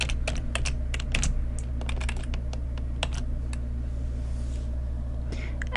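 Typing on a computer keyboard while entering a name into an Excel spreadsheet: quick, light clicking keystrokes in irregular bursts over a steady low hum, no talking.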